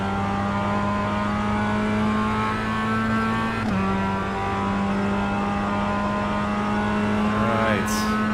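Race car engine humming steadily at high revs in a racing video game practice lap, with a brief shift in pitch midway and a short skid or squeal near the end, no voices.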